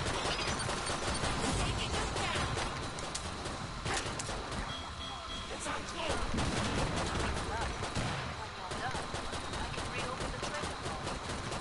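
Dual Beretta pistols, the starter weapons in the video game Killing Floor 2, fire in dense rapid bursts of sharp cracks with only brief lulls, while people talk over the shooting throughout.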